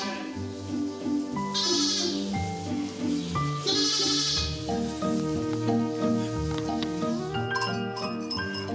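Many sheep bleat in a Sicilian sheep stall during morning milking, loud overlapping cries close by with a few metallic clinks near the end.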